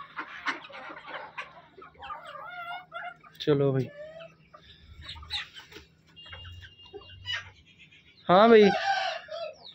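Aseel chickens cluck and squawk in agitated bursts as they fight, with a loud rooster-like crow near the end, while people talk briefly over the farmyard commotion.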